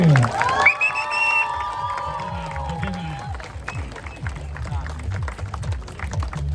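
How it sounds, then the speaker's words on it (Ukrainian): Crowd applause and cheering at a record-attempt race event, opening with a loud voice calling out over the crowd, then sustained cheering and clapping with shouts and voices mixed in. "Оплески!"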